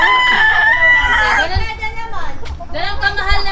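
A rooster crows loudly up close, followed by a second crow, with voices and chatter mixed underneath.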